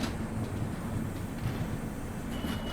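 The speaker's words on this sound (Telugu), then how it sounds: "ధర్మవరం మచిలీపట్నం ఎక్స్ప్రెస్ అయితే వచ్చిందండి" Dharmavaram–Machilipatnam Express pulling into a station on the Guntur–Vijayawada line, a continuous low rumble of rolling wagons that stays steady and near throughout.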